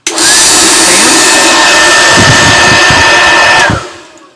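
A Lux electrostatic disinfectant backpack sprayer runs with a loud, steady motorized whine and hiss for several seconds, then cuts off and winds down to quiet, very close.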